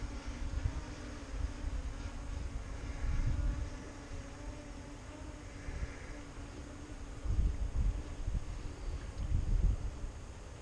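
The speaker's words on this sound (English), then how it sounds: "It's windy today" Steady wind gusts buffet the microphone by a creek in Castleton-on-Hudson, a low rumbling roar swelling and easing in several surges, with no talking.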